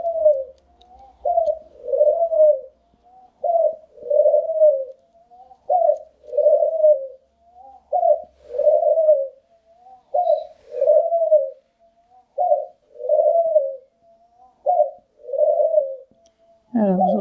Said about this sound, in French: vous entendez ma tourterelle qui aime bien se faire entendre